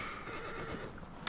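A horse in Shadow of the Colossus whinnies and neighs steadily over a low rumble of hoofbeats, ending in a brief sharp sound.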